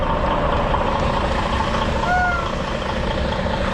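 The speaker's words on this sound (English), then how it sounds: "Let the trailer follow the truck." A truck hauling a trailer of pipes backs up at a Seattle construction site, its loud, steady engine rumble filling the scene while a short electronic beep sounds once partway through.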